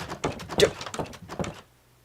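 Minecraft doors in a video game open and close in a quick run of a dozen or so hollow wooden clacks over about a second and a half, then fall silent.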